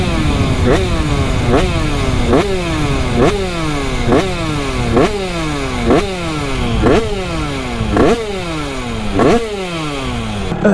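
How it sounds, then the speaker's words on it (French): A motorcycle engine revs over and over while warming up, in a steady rhythm, each rev rising sharply then dropping, loud and close throughout. "on fait chauffer le moteur"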